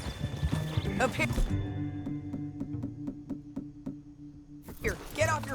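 Horse hooves clip-clopping in Red Dead Redemption 2, a run of evenly spaced knocks between game music and voices, with talk at the start and end and a possible whinny.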